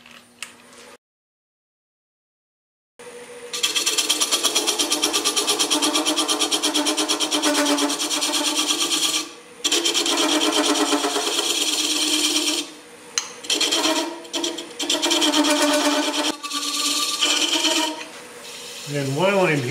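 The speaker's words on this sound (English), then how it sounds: "I'm taking a tool and I'm going to clean up the opening" A turning tool scrapes at the opening of a wooden hollow form spinning on a lathe, a steady close rasping cut that runs for long stretches with a few brief pauses and no talking.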